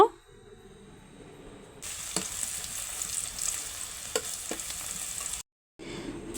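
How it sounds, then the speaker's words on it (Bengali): Chopped onion frying in a pan for a Bangladeshi katla fish curry: after a quiet start, a close, steady sizzle sets in with occasional stirring scrapes, briefly cutting out near the end before resuming. "এখন পেঁয়াজটাকে আমি দুই মিনিটের মতো ভেজে নেব"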